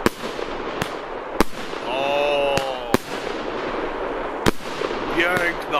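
Comet fireworks with glitter shooting high into the sky, with sharp launch bangs and crackling bursts over a steady hiss. Someone speaks excitedly between the reports, heard outdoors at a moderate distance.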